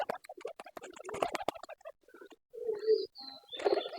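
Pigeons kept in a new bamboo coop coo in short, soft phrases close by, with scattered chirps and fluttery calls in between and brief quiet gaps.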